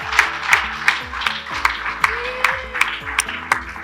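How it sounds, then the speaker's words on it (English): Teachers at a primary school graduation give themselves a round of applause, with scattered claps heard over a rhythmic musical backing with steady beats. "So teachers, give yourself a round of applause."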